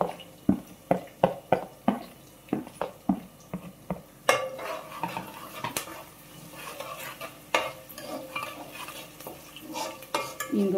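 Green and red chillies with curry leaves frying in hot oil for tempering, with crisp sharp clinks and taps from stirring at first, then a steadier busy sizzle and scraping that continues without talk.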